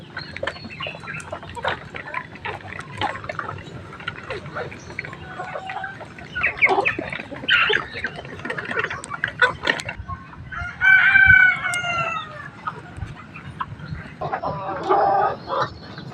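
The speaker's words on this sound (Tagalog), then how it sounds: "Ang aking mga alagang Rhode Island Red." Backyard flock of Rhode Island Red chickens mixed with Black Astro birds, about five months old, hens and young roosters together. Scattered clucks and squawks come throughout, with a rooster crowing clearly near the end, close and fairly loud.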